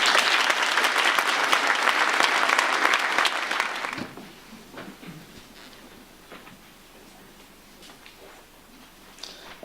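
A school certificate of achievement ceremony erupts in loud, dense audience clapping that cuts off abruptly after about four seconds, leaving a quiet hall with a few scattered claps and small movement noises.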